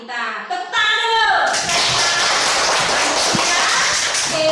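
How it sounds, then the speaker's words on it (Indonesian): A class of children claps hands together in a classroom, a brief burst of quick clapping that follows a teacher's spoken prompt and continues briefly before the talk resumes. "Tepuk tangan dulu."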